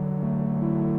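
A dry synth preset in a VST plugin with its effects switched off, holding a steady sustained buzzy tone at an even level for about a second, with no voices.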